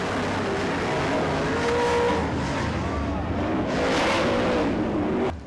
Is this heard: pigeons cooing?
no